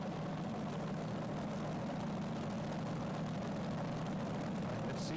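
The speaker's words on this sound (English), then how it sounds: "Fredrik is sitting behind 4 Chevy V8s" Steady, loud engine roar from a tractor puller powered by four supercharged Chevy V8s, a continuous low drone with no breaks and no talk.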